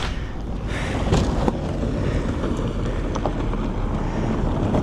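Strong coastal wind of about 25 miles per hour on a hike from Playa Blanca marina toward Papagayo Beach, buffeting the microphone in a constant loud roar with a few sharper gusts.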